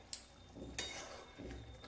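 A metal lid is lifted off a pot of simmering tomatoes for chutney, giving a few sharp clinks and scrapes, close and clear, over a soft bubbling hiss from the pot.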